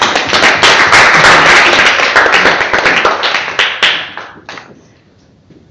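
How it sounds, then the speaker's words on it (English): Applause from a small audience at a Toastmasters club meeting, close, sharp individual claps forming a loud burst that thins out and dies away to near silence after about five seconds. "Give him a round of applause."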